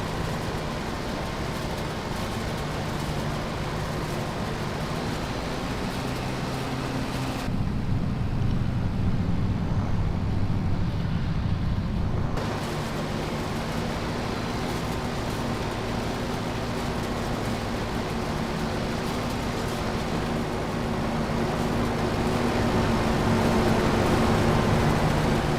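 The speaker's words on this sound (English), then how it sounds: "I did add the sound file from the Farmall to the T5 because that's how it sounds." A Farmall tractor engine sound file playing on a blue T5 tractor in Farming Simulator 25, a steady low droning hum with a constant tone, running on its own with no talk.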